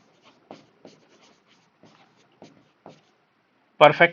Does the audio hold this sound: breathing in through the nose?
no